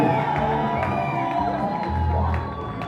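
Wedding guests cheer and whoop in a lively crowd, with excited shouts and raised voices layered over a dense background din, loud and close throughout.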